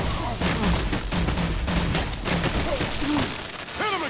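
Gunfire and booming impacts in the Batman: The Enemy Within video game, dense and loud throughout, with sharp bursts layered under shouting voices and game sound effects.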